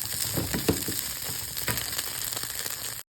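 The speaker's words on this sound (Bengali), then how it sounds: "দিয়ে টমেটো সসটাকে এটার সাথে ভেজে নেব" Tomato sauce fries together with chicken in a pan, making a continuous close hiss and sizzle with soft scraping stirs, fairly quiet, then cutting off abruptly at the end.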